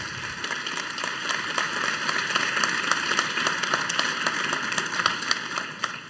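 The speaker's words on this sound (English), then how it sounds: "Okay, so let's give Hetty a big applause and thank you for that talk." Audience at a conference talk applauding, a steady patter of many hands clapping at moderate loudness throughout, no talk over it.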